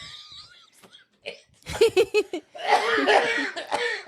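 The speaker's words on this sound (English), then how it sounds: "Can you cough into the microphone a little more?" Several harsh, close coughs come in a quick series, followed by a longer rough fit of coughing mixed with wheezy, laugh-like breaths.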